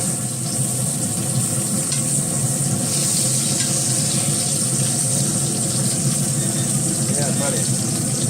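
Steak sizzling in a cast iron skillet on a Pit Boss pellet grill while being basted, a steady loud crackling hiss with a voice talking over it.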